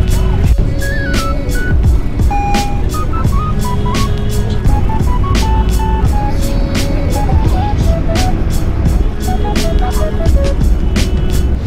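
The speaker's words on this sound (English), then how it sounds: "I'm on the bus." Inside a moving bus, a steady engine and road rumble runs throughout under a loud beeping melody of tones and regular clicks, with no talking.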